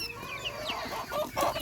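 A hen clucks in a quick run of short, close calls, with a few sharper squawks toward the end.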